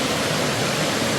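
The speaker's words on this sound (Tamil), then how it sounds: "நீர்வீழ்ச்சியோட அருவி சத்தத்தை கேட்கறது ஒரு சுகம்." A waterfall at Valparai roars in a loud, dense, unbroken rush of falling water, close by and with no voices.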